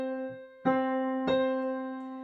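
One sustained tone rings, then two more notes an octave apart are struck about half a second apart, each ringing over the first and slowly fading.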